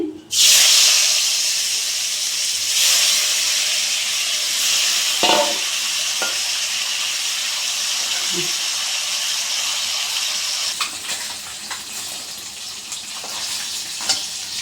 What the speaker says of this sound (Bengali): আবারও 3 পিস ওই তেলেই দিয়ে দিচ্ছি